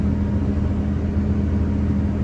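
A McCormick hay baler running nearby, a steady loud low mechanical drone that holds even and unbroken throughout, with no voices.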